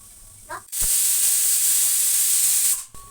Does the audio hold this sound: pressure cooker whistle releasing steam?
yes